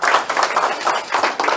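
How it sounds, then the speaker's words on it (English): Audience applause for a host at a professional audio-engineering event venue, a steady dense wash of many hands clapping close by that swells and dips in waves throughout. "Round of applause for Daryl"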